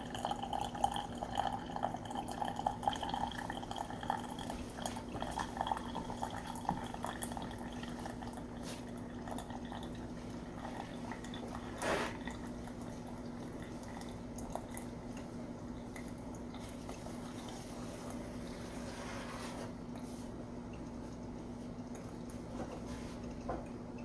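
A Mainstays Keurig-style single-serve coffee maker brews hot coffee into a cup, a faint, steady trickle and drip of liquid with a low constant hum underneath, close by.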